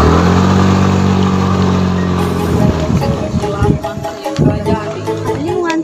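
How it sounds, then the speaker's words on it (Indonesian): An old, worn-out motorcycle engine runs with a loud, rough, steady drone, close by, then gives way to busier clatter and voices talking over it. "ada motor tapi malah butut"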